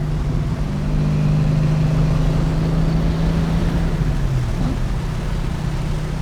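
A 1971 El Camino, Roadster Shop equipped with a Texas Speed engine, drives along with a loud, steady engine drone and a sustained low tone that dips near the end, no voices present.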